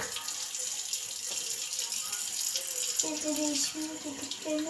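Tap water runs steadily for face washing, a close, continuous hiss that fills the whole stretch, with a faint voice murmuring briefly near the end.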